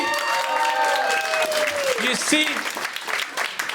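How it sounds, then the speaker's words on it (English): A crowd applauds, a burst of clapping with a voice talking over it partway through. "round of applause"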